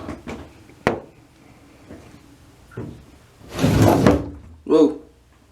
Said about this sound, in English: let's see if we can close the door